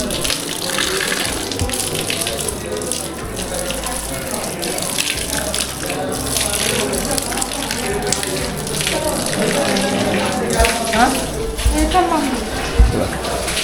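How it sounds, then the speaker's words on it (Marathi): Water gushes steadily from a cow-mouth spout at the Tulja Bhavani temple in Tuljapur, a loud continuous splashing under people talking and children's voices nearby. "इथलं गोमुख आहे आणि गोमुखाचं पाणी येतं"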